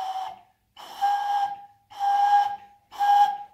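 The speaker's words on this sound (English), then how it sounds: "I'm blowing air over, and some comes off the top, and some goes down in the bottle" Breath blown across the mouth of a nearly full water bottle makes three flute-like whistled tones, each about half a second to a second long with an airy hiss, played in a steady pattern up close.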